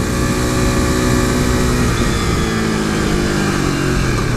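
Modded 2015 KTM RC 390 motorcycle being ridden, its single-cylinder engine droning loud and steady with shifting pitch as revs rise and fall, wind noise mixed in throughout.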